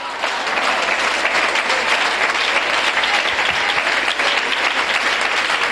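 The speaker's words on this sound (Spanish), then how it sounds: "Denle un aplauso al Señor." Sustained applause from a church congregation during a Spanish-language sermon on prayer, dense steady clapping filling the room at even loudness throughout with no voices over it.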